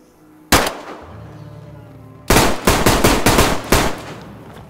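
Gunfire in DayZ: one loud shot, a pause, then a quick run of about six heavy shots in close succession, each ringing out with a short echo.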